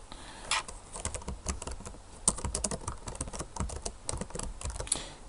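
Fast, continuous typing on a computer keyboard, a close run of crisp irregular key clicks lasting several seconds with no talking.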